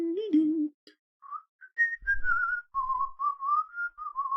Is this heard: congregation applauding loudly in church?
no